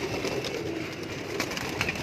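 Pigeons from a breeding set in Lahore coo softly and repeatedly against a steady, busy background hum, with a few brief chirps standing out near the end.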